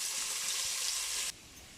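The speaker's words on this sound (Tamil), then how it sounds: "நம்ம வந்து நல்லா வதக்கிக்கலாம் வெங்காயத்தை போட்டு வதக்கிக்கலாம்" A steady, hissing sizzle of onions sautéing in a pan fills the clip, then suddenly drops away to a quieter background.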